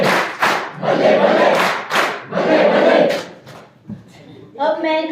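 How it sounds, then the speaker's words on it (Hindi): A school farewell ceremony audience in Almora gives a Punjabi-style clap and cheer: several loud, rhythmic bursts of group shouting with claps, close and full, ending in a sustained vocal cry. "पंजाबी ताली दो"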